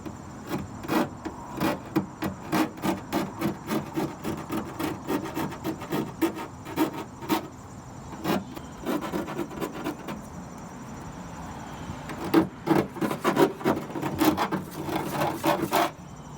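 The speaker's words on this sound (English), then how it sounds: "Just gonna file this down a little bit." A metal file works the edge of a drilled hole in the body of a 2017 Nissan NV2500 van, making steady back-and-forth rasping strokes close by. The strokes pause briefly midway, then resume faster.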